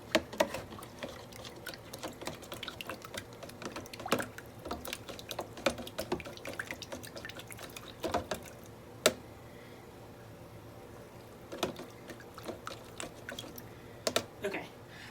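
Yeast being stirred into warm water inside a container, giving soft, irregular clinks and taps of a utensil, moderately close, with small splashy swishes and occasional sharper knocks throughout.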